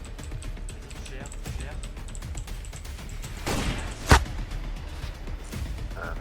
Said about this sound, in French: j'ai entendu un drôle de bruit là, comme un coup de feu